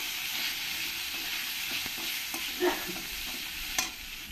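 Potatoes fry in hot oil with salt and turmeric, a steady close sizzle broken by the scrape and clack of a spoon stirring, with a couple of louder knocks near the end.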